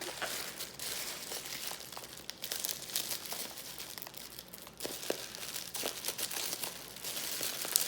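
Close, quiet crinkling and tearing of plastic and paper wrapping as a well-wrapped package of jewelry-making supplies is opened, irregular rustles and crunches throughout.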